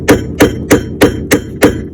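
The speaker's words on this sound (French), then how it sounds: "vous tapez avec un marteau," A hammer taps a rigid-handled screwdriver set into a handbrake lining screw on a 2010 Kia Pro_cee'd: six sharp, loud metallic strikes at an even, quick rhythm, close by and with no talk.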